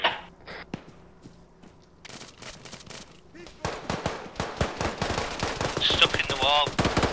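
Minigun in the video game Arma 3 firing long, rapid bursts of dense automatic gunfire, sparse at first, then building to a loud, nearly continuous rattle.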